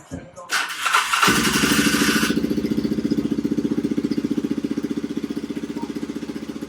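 A Polaris 425 ATV engine cranks briefly, then catches and settles into a loud, steady, rapid putter that carries on to the end, close to the microphone.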